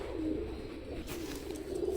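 A male pure-bred Chinese pigeon coos in soft, throaty rolls, close by and fairly quiet, repeating over a couple of seconds with no talking.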